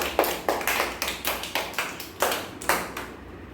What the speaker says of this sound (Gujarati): ચલો બાળકો તાળી પાડો.